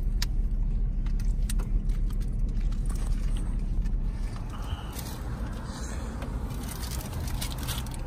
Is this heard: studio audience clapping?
no